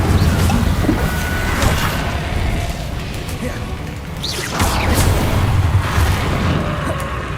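A fire spell cast in the video game Hogwarts Legacy, heard as a loud, rumbling burst of flame with booming low thuds over dense game noise, swelling again partway through the clip.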